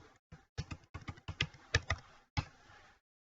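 Password being typed on a computer keyboard: a quick run of distinct key clicks in uneven bursts, close and clear, with no talking, ending in silence.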